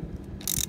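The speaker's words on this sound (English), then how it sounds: "So we'll just continue on wrenching" A ratchet wrench clicks briefly while turning to work a stuck piston gudgeon pin loose, a short close burst of fine metallic ratcheting after a quiet moment.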